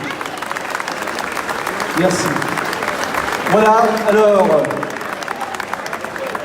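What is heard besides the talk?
audience applause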